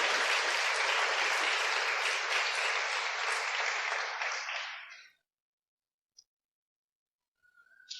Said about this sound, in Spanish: ¿Cuánto le dan un fuerte aplauso al Señor Jesucristo?